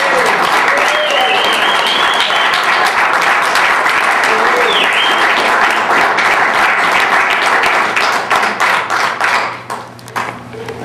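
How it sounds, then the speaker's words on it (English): Loud, sustained applause and cheering from an audience greeting guest Buckshot Dot (Dee Johnson), dense clapping that holds steady before tapering off near the end, with whoops and voices mixed in. "Please give her a nice round of applause."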